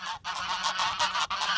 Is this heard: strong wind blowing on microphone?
no